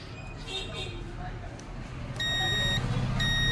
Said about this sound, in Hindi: यहाँ भी बीप आ रही है यार